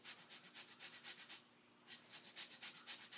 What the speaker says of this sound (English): I've got my grater and I'm zesting my orange as we speak.